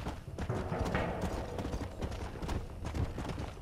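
Horse hooves in the video game Red Dead Redemption clip-clop at a steady trot, a continuous rhythmic clatter with some faint mechanical rattling behind it.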